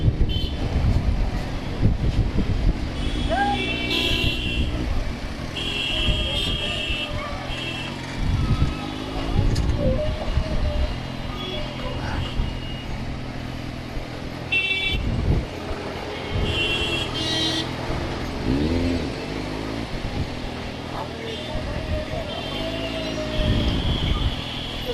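Busy Indian road traffic with cars, trucks and motorbikes rumbles past under heavy wind buffeting, with short horn honks and beeps scattered throughout and a voice speaking at times.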